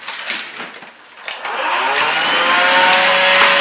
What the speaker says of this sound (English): it's nice to have a little shop vac